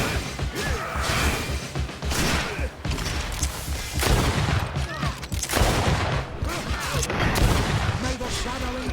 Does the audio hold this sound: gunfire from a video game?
yes